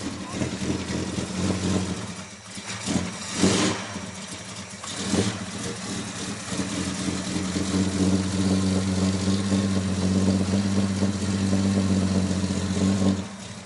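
A Chrysler Valiant from a period-correct restoration collection revs steadily through a non-stock exhaust, the engine note rising and holding as a loud, droning rumble for several seconds while people talk over the start.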